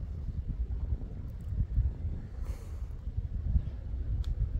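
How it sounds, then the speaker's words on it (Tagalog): Strong wind buffets the microphone in low, rumbling gusts that rise and fall continuously, with faint rustling in the background. "Malakas nga medyo yung hangin."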